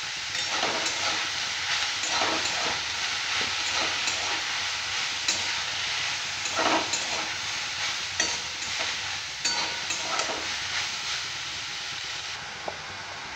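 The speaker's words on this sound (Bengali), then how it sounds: "ভালো করে নেড়ে চেড়ে ভেজে নিতে হবে" Mushrooms being stirred and fried in a pan, with a steady, strong sizzle throughout and repeated close scraping strokes of a spatula against the pan.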